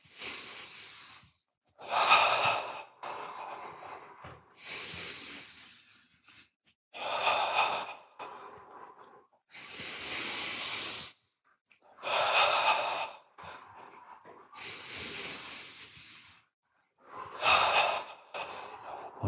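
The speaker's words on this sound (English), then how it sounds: "Notice his breath is getting longer because that's what happens." A person breathing deeply through a guided breathing exercise, with long drawn inhales and exhales in a slow repeating rhythm, close and fairly loud, with brief silent pauses between breaths and no talking.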